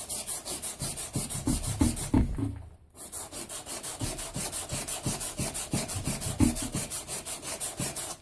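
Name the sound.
wet sanding aluminum part with sandpaper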